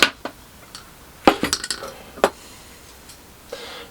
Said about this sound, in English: Put the nuts away in a pot